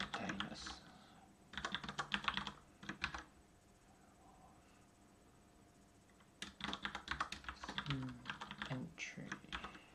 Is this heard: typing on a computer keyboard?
yes